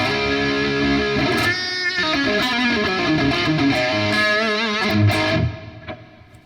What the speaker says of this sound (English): So moving on to the red channel, the distortion channel.